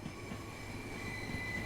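A passenger train running in the Train Sim World 2 video game: a steady, fairly quiet rolling rumble with faint wheel hum and thin whining tones throughout, no voices.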